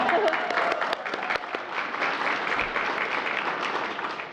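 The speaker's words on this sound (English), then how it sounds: "let's clap for them, too" An audience at the White House Christmas reveal claps together, a dense, even burst of applause with a few crisp individual claps near the start, continuing steadily.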